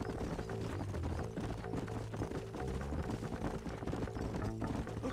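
Horse hooves clip-clop in Red Dead Redemption, several horses walking with a steady, dense rhythm of hoof strikes, loud and close over a busy ambient game background.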